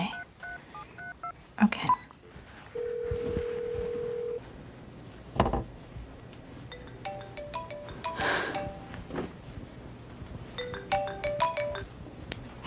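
A phone is dialed with a rapid run of keypad tones, then a ringtone chirps in repeated bursts as the call rings through, with a long steady tone between and a brief spoken word early on.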